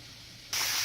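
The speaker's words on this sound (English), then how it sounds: "And here's fish that is cooking." A quiet room gives way abruptly to a loud, steady sizzling hiss of fish frying in hot oil in a pan.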